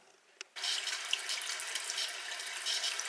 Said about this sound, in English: Let me go turn the water off just in case I hit a snag